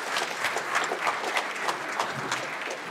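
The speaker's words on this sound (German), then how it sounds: "Ich bitte nochmal um Applaus für diese tolle Familie." Applause for a family at a charity gala in Frankfurt, a moderate crowd clapping in quick, fairly even bursts that hold steady throughout, with faint voices underneath.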